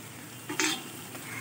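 Spice mix with turmeric and salt sizzles gently in oil while being stirred for a duck egg curry with coconut milk, a soft frying hiss with a brief scrape of the spoon.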